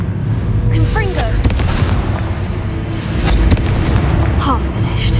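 Booming Confringo spell explosions in Hogwarts Legacy erupt loud and near amid a dense, noisy battle with magical whooshes, while a voice talks over the fighting.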